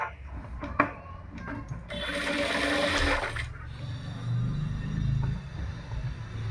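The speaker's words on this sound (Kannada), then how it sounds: "ನಾನಿಲ್ಲಿ ಮಾರ್ಕ್ ಮಾಡಿಕೊಂಡು ಸ್ಟಿಚ್ ಮಾಡ್ತೀನಿ." A sewing machine stitches a blouse sleeve in a short whirring burst of about a second and a half, after scattered taps and fabric handling, then a low hum trails off.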